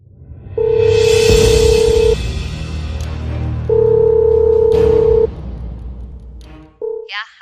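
A telephone ringback tone sounds as a call is placed: two long steady beeps separated by a pause, loud and close over faint background noise, followed by a brief clipped voice at the end.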